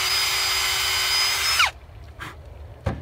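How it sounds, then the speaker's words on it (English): Power drill boring a hole through a ball for a homemade training bolo: a loud steady whine for about a second and a half that drops in pitch and cuts off, followed by a couple of faint handling clicks. "So I'm just gonna drill these."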